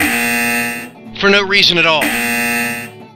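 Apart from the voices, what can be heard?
buzzer sound effect played as a joke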